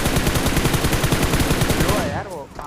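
Rapid automatic gunfire from the PUBG Mobile video game rattles in a dense, loud, continuous burst before cutting off near the end.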